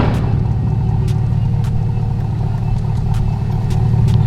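Steady low rumble of a C8 Corvette idling with an always-open non-valvetronic exhaust, a continuous even drone with no revving, heard alone.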